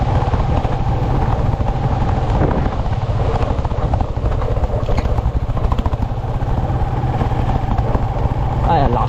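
Strong wind and heavy rain lashing a home during a storm, a loud continuous roar of gusts and rainfall over low rumble, with people talking at times.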